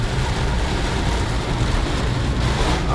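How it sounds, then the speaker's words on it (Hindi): Heavy storm rain pours down in Multan, a dense, steady roar that stays loud and unbroken throughout, with no voices. "बहुत तेज़ बारिश है।"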